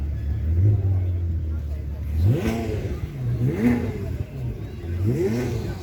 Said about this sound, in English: So we've got some revolutions from the Ferrari.